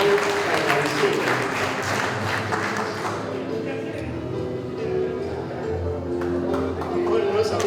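Audience applause at a 2023 graduation ceremony for motorcycle and vehicle mechanics students, a loud, dense wash of clapping that fills the room, with a voice and low tones running underneath.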